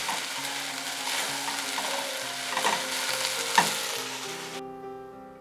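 Noodles with Chinese broccoli and cilantro sizzle as they are stir-fried in a pan, with steady frying and stirring clatter before the sound cuts off abruptly near the end.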